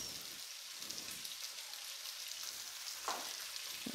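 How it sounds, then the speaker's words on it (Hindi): Chicken cooking in a pan with cumin and salt gives off a steady, even sizzle and hiss, with a few faint stirring scrapes and no talking. "इसको मैं अच्छी तरह से थोड़ा सा पका लूँगी"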